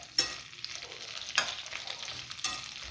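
Okra frying in oil at medium heat gives a steady, close, soft sizzle, broken by three sharp metallic scrapes of stirring spaced about a second apart, with no talk.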